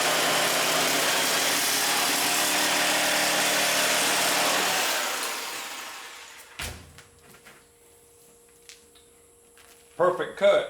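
A power saw blade cuts through a Lexan windshield on a chop top rat rod truck, a loud steady whine for about five seconds that fades out, followed by quieter clicks, handling noises and a short burst of talk.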